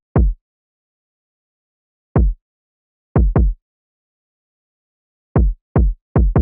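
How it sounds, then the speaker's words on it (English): Hard-hitting UK drill kick drum pattern, minimal and sparse, with deep booming single and paired kicks separated by silence, loud and isolated. "my kicks were very simple but very effective,"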